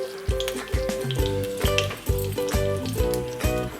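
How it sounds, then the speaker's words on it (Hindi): Curry leaves sizzling in a little oil in an appe pan on a gas stove, a steady crackling fry with regular clinking, tapping pulses about every half second and a faint background tone. "मैंने गैस पे अप्पे पैन को चढ़ा दिया है और इसमें हल्का हल्का मैंने थोड़ा तेल डाल दिया है और कड़ी के पत्ते डाल दिए हैं।"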